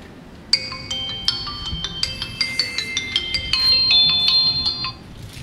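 Phone ringtone of an incoming call: a bright electronic melody of repeated chiming tones, loud and close, playing steadily for about four seconds over a quiet indoor room.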